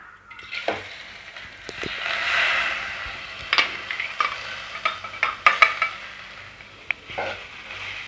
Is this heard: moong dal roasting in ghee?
yes